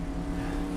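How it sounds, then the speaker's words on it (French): A car engine rumbles in a brief, continuous burst, a steady broadband drone with no voices over it. "Ah, j'entends une voiture."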